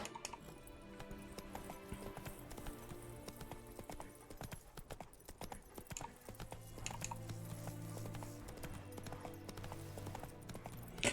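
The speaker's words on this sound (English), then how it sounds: "Come on, Roach." Hooves of a horse clip-clopping at a steady gallop in The Witcher video game, a continuous rhythmic clatter running throughout over game music, with no talk.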